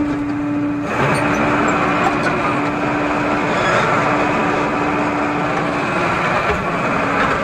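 A Tata JD 315 E backhoe loader backs up during pipeline work, its diesel engine droning steadily and loudly up close, with a sustained tonal hum running through most of it.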